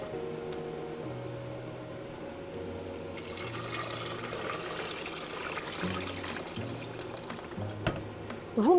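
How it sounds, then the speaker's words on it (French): Water poured into a pan of lentils, vegetables and spices, a continuous trickling splash close by with a faint background hum, ending in a brief clatter. "je vais ajouter l'eau"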